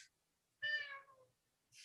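A cat gives one clear, close meow that rises and then trails off, alone in a quiet room with faint clicks around it.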